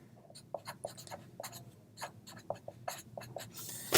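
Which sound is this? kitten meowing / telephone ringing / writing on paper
writing on paper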